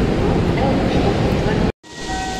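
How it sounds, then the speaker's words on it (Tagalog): A cargo train passing on a rail journey to Rotterdam in the Netherlands, a loud close rushing roar and rumble that cuts off abruptly, then resumes more quietly with faint tonal hum. "Cargo train ata yan kasi walang bintana eh."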